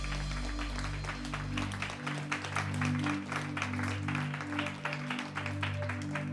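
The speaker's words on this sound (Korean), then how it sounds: "우리 하나님께 영광의 박수 올려드리겠습니다." Congregation applause at a Wednesday worship service at Yeouido Baptist Church, a dense spread of clapping from many hands lasting throughout, with sustained music tones underneath.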